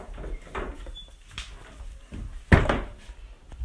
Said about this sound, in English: Better close these doors.